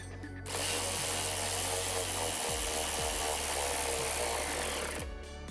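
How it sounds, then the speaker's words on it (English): A power tool whirs steadily for about five seconds as the factory airbox bolt is driven back in on a Mustang GT, close and continuous, starting and stopping abruptly. "Reinstall with the factory bolt."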